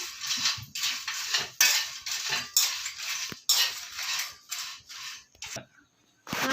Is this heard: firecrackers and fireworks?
no